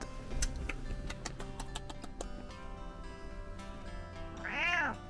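Indoors in a van, a rapid series of soft ticking clicks runs through the first half, then a cat gives one short, close meow near the end over a quiet background.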